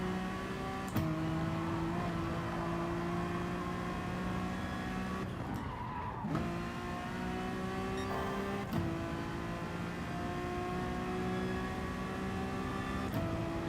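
A Honda NSX Group 4 race car's engine drones steadily in GT Sport, its pitch stepping through gear changes, with a brief tire-scrub burst midway and sharp clicks at each shift.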